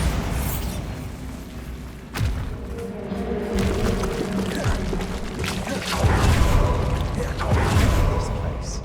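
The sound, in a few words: Bombarda spell blast in the video game Hogwarts Legacy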